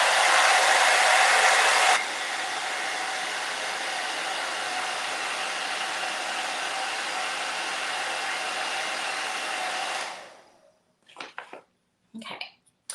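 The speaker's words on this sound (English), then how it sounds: "I'm going to hit it with the blow dryer" A blow dryer blasts steadily on white craft paint, loud and close, dropping to a slightly lower setting after two seconds, then winding down and cutting off near the end, followed by a few faint clicks and rustles.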